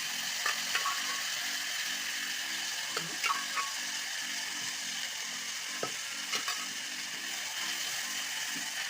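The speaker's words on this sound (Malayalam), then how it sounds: "നമുക്കിതിലേക്ക് കുക്കറിൽ വേവിച്ച് വെച്ചിരുന്ന ബീഫ് നല്ല വെന്തിട്ടുണ്ട്. ഇതിലേക്ക് നമുക്ക് ഇട്ട് കൊടുക്കാം." Pressure-cooked beef tipped into masala sizzles steadily in a pan, a constant frying hiss with a few scattered clicks of a spoon, close and even throughout, no voices.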